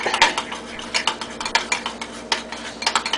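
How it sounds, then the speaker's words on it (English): A spoon clinks and scrapes against a bowl while stirring meat loaf mixture with grape jelly and ketchup, in quick irregular bursts of close, bright clatter. "And mix it up really good."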